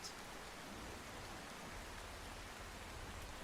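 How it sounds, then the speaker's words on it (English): Heavy rain in the storm-chasing video game Outbrk, a steady, even hiss of falling rain, faint and continuous with no voices. "that's the heavier rain"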